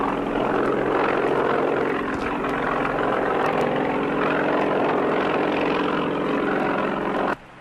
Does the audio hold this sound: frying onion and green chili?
no